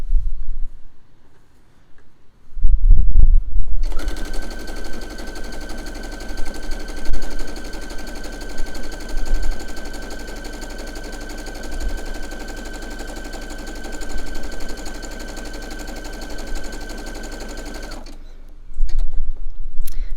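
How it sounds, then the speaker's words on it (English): A sewing machine runs a zigzag stitch on fabric, a loud continuous rapid mechanical whir holding steady for about fourteen seconds before stopping, with faint handling noises before and after. "Zigzagging always sounds pretty noisy on your machine because of the amount of movement"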